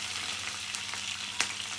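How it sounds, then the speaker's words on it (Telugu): Green chillies hiss in hot oil in a cooking pan, a steady close sizzle with a few sharp pops and spatters and no talking. "ఆయిల్ హీట్ ఎక్కినాక మనం పచ్చిమిర్చి వేసేసుకుందామండి"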